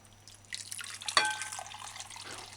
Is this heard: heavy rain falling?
no